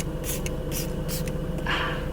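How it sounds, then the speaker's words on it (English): A setting spray bottle mists several times in quick bursts, each a short soft hiss, close and fairly quiet, with a longer spray near the end. "This one sprays so nicely"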